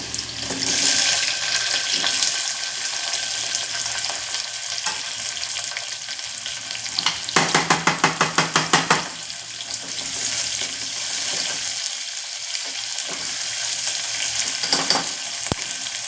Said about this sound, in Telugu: కుక్కర్ బాగా హీట్ ఎక్కింది కదా అందుకే తుల్లుతుంది బాగా ఫ్రై అయిపోయింది ఇప్పుడు ఇదే టైంలో ఆనియన్స్ తర్వాత కరివేపాకు వేసుకుంటున్నాను